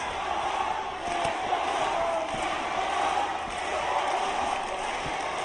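A K-1 World MAX 2010 arena crowd roars and rallies for Yoshihiro Sato, a dense continuous wall of cheering and shouting with scattered thuds beneath it.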